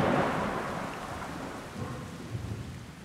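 A thunderstorm over marshland, with a heavy roll of thunder fading into steady, dense rainfall that hisses continuously, loud and enveloping with no voices.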